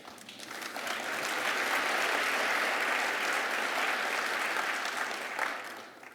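An audience at an MIT Martin Luther King Jr. celebration breaks into sustained applause. The clapping swells, holds as a dense and fairly distant wash for several seconds, then fades away.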